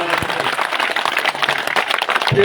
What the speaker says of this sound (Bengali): আমরা একটা জোরে একটা করতালি দিয়ে আন্তরিকভাবে ধন্যবাদ